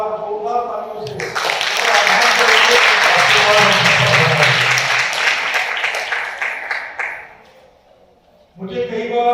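Loud, dense audience applause at a Mahashivratri celebration, the Trimurti Shiv Jayanti Mahotsav, sustained for several seconds before fading, with a voice speaking over the start and the end.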